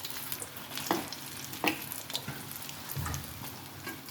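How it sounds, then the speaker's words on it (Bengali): Pakoras sizzle in hot oil as they are flipped, a soft crackling fry punctuated by a few sharp clinks and scrapes of the utensil against the pan, fairly quiet and close, with no talking. "পকোড়াটা উল্টে দিচ্ছি"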